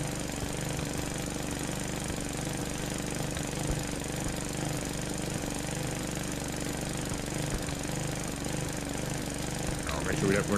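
A riding lawn mower's engine drones steadily and loudly without a break in Finnish Cottage Simulator, a rough continuous mechanical rumble, with someone talking over it.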